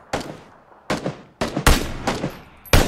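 Several sharp gunshots crack out in an uneven rhythm in a multiplayer shooter video game, some single and some in quick pairs, loud and close with short decaying tails and no talking.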